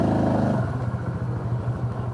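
A Honda Super Cub scooter's small engine idles with a low chugging note, then a short clattering jolt as it rides up over a street curb, close and fairly loud with no speech.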